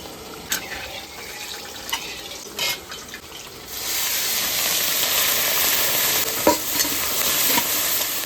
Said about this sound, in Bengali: এবার চিংড়ি মাছ ভাজার জন্য আমি কড়াইতে তেল দিয়ে দেবো।